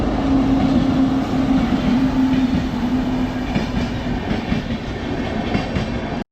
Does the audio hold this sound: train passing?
yes